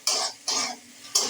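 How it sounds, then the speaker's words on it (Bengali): Tomatoes, onion and ginger-garlic paste are stirred in a pan, three quick scraping strokes of a spoon, close and fairly quiet. "টমেটোটা একদম নরম না হয়ে যাওয়া পর্যন্ত ভালো করে নাড়তে থাকছি"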